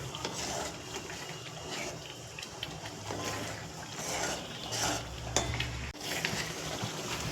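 A Punjabi vegetable curry being stirred in a metal cooking pot, with steady scraping and clinking of a spoon against the pot under a continuous background hum, no talking.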